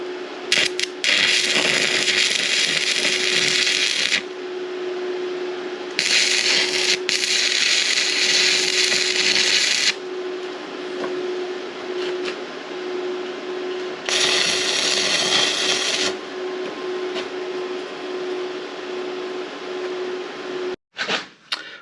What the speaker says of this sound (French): On va faire 4 petits points et puis on va le présenter pour voir si ça tient et après on fera les soudures définitives.